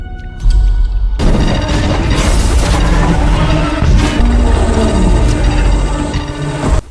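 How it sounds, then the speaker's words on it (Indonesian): A loud, rumbling explosion booms in, followed by a sustained roar of debris and reverberation that fills the space for several seconds before a brief drop at the end. "sebuah ledakan yang entah karena apa"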